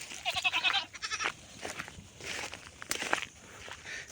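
Two white castrated goats move about in a grassy, tree-filled patch, giving a short, clear bleat near the start, followed by soft footsteps and rustling. No one speaks.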